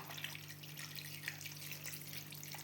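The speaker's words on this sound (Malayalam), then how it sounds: "അപ്പോൾ അതിനാവശ്യത്തിനുള്ള വെള്ളം ഒഴിച്ച് കൊടുക്കുക." Water pours over cut taro (chembu) in a pot, a steady, fairly soft rushing stream that runs continuously without a break, with no voices over it.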